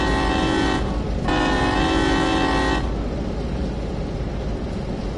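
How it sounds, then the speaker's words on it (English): A loud train horn blares in two long blasts separated by a short break, over a heavy rumbling engine that keeps going after the horn stops. "It's a real train horn."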